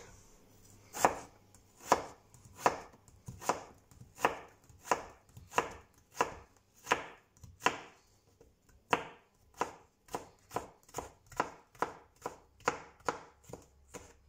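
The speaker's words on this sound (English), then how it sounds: "I love chopping up things." Onion chopped with a knife on a cutting board, about two dozen crisp, evenly spaced taps at a steady rhythm, close and fairly quiet, with no talking.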